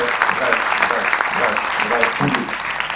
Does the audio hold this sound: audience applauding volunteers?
yes